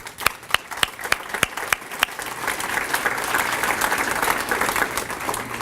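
A few sharp, isolated claps start up, then swell into full, steady audience applause at an award ceremony, filling the room with dense clapping.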